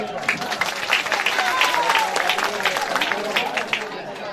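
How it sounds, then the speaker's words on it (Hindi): Applause at a village panchayat inauguration ceremony: a crowd claps steadily and fairly loudly for several seconds, with voices mixed in. "एक बार जोरदार ताली हो जाए।"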